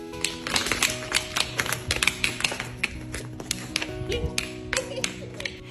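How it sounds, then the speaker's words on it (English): Quick, irregular hard taps of a small dwarf stallion's shoes on a wooden floor, bright and clicky, continuing steadily through the clip with a faint background hum. "soon he was knocking on the wooden floor and making all kinds of funny noises"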